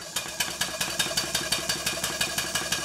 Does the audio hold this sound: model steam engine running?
yes